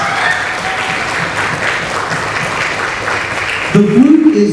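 An audience at a school woodwind ensemble concert gives steady, full applause. Near the end a voice begins talking over it.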